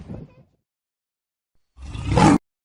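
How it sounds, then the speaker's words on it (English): A lion roars once, a short loud rumbling burst standing alone, preceded by a fainter, brief growl-like sound and a stretch of silence. "The lion is a large cat of the genus Panthera"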